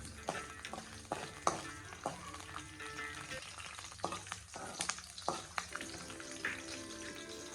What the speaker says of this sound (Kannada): 2 ಪೀಸ್ ಶುಂಠಿ, 1 ಬೆಳ್ಳುಳ್ಳಿ ಹಾಕ್ಕೊಂಡು ಚೆನ್ನಾಗಿ ಗೋಲ್ಡನ್ ಕಲರ್ ಬರೋವರೆಗೂ ಫ್ರೈ ಮಾಡ್ಕೋಬೇಕು